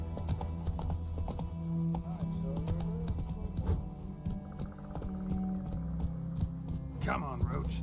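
Horse hooves clip-clop in a video game as the horse Roach moves along, with a steady rhythmic patter of hoofbeats, a faint whinny and a low hum, all under someone talking.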